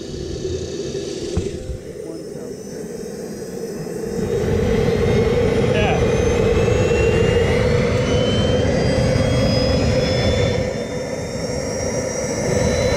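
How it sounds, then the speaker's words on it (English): A small jet turbine on a jet scooter runs through its start sequence, a loud steady roar and whine that swells after a few seconds and holds close by, with rising high-pitched tones. "now you'll hear it start to initiate the start sequence on that jet"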